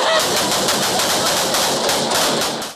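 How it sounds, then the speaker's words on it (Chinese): A sheriff's deputy fires repeatedly into an apartment, a loud, dense burst of rapid gunshots that runs almost continuously before cutting off. "当枪声响起，副警长向公寓内连开数枪，装填子弹之后再次开枪"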